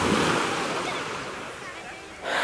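Sea surf washing onto a beach at dusk, a steady broadband wash of breaking waves with some wind noise, fairly close and continuous, swelling again near the end.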